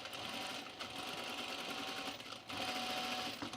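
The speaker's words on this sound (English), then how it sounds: "Let's put a stay stitch in our neckline." A sewing machine stitches close up, putting a stay stitch along the neckline of a cropped flannel jacket, its steady whirring hum briefly easing and then resuming.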